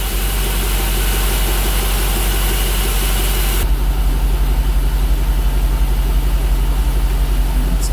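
A car fitted with an LS1 intake idles steadily and smoothly, a constant low mechanical hum with a slight shift in tone partway through, close and fairly loud, with no talking.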